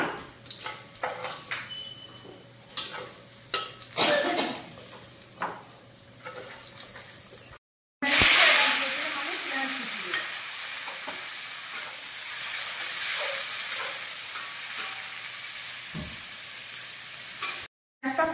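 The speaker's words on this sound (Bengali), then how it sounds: "আমি এই ডুমো ডুমো করে কেটে রাখা ওল আর আলুগুলো ভেজে দেব" Diced elephant foot yam and potatoes fry in hot oil, with a steady, loud, close sizzle filling the second half after a stretch of quieter kitchen clatter and stirring knocks.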